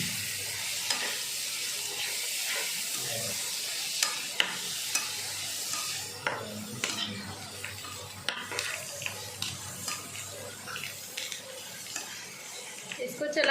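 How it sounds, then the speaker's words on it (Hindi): Chicken frying with tomato paste in a pan, soft continuous sizzle under repeated clinks and scrapes of a spoon stirring against the metal, growing busier as the stirring goes on. "इसको चलाते हुए ऐसे ही हमें 2 मिनट भूनना है"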